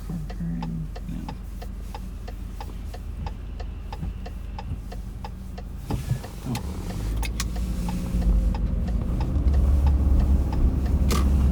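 Car driving along a snowy road among snow-laden trees, a steady low engine and road rumble inside the cabin with a regular ticking turn signal, the rumble growing louder toward the end.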